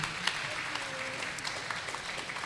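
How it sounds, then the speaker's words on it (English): A conference audience claps in a steady, moderate round of applause, many hands together at an even level. "Give a round big applause to UBSI."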